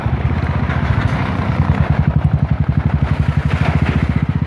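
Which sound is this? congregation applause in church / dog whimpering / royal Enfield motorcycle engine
royal Enfield motorcycle engine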